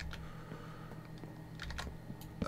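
Typing on a Corsair mechanical keyboard, a steady run of quick, light clicks and clacks with a few louder key strikes, close up and alone at low level.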